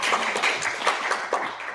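An audience at an arts council gathering gives a short round of applause, a dense, steady patter of many hands clapping close by with no voices over it.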